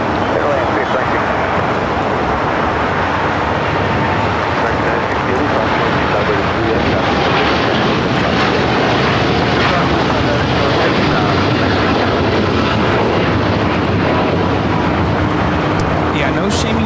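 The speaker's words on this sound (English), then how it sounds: "That was United Airlines 801 taking off to Hong Kong on the 787-9 Dreamliner." A United Airlines Boeing 787-9 Dreamliner takes off from LAX bound for Hong Kong, a loud sustained jet roar with voices talking over it.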